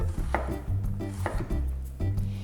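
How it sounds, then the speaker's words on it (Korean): A knife thinly slices a quarter onion on a cutting board, giving a steady run of crisp, close chopping taps about every half second. "4분의 1 쪽 준비해 주셔서 얇게 슬라이스 해주세요"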